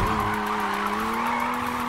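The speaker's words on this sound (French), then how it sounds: "Je crois qu'on est sur le meilleur dérapage de ce virage" Tires squeal in a long, steady skid as a car drifts through a corner in the video game Need for Speed Heat, the screech held loud and unbroken over the engine's drone.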